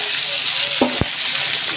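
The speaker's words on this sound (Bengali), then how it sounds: "এর মধ্যে আমি একেবারে পেঁয়াজ টমেটো কুচি কাঁচা লঙ্কা ছেঁড়া সেটাও দিয়ে দিলাম, দিয়ে আমি বেশ ভালো করে ভেজে নেব" Dried fish fries with onion, tomato and green chili in a pan, a steady close hiss broken by a quick knock and scrape of a utensil near the middle; no one talks.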